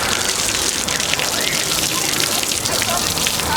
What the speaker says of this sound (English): Got the hose going.